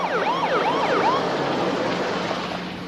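An ambulance siren of a Clayton County Fire Med unit wails in fast rising-and-falling sweeps, fairly loud at first and then fading into a steady rumble of traffic.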